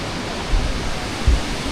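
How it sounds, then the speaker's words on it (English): Steady broadband rush of a waterfall near Furong Town, continuous and even with a couple of brief low thumps, no voices. "Honestly, I quite enjoy this sound, this ambient sound of waterfall."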